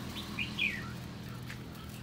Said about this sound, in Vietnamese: Đây toàn bộ là chim ca bằng hết các bác ạ